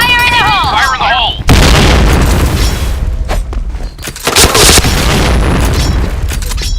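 A grenade goes off in a first-person shooter match, a loud booming blast with gunfire around it and scattered voices over the action.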